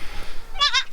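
A baby goat gives a single short, bright bleat, close and clear over faint background noise.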